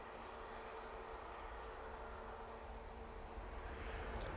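An airliner arrives at Manchester Airport, its engines a faint, steady roar heard from a distance without any voices.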